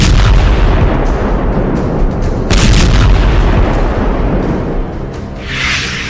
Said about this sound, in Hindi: एंटी एयरक्राफ्ट सिस्टम S-300 से रूस ने खार्किव और ओडेसा में धमाके किए हैं।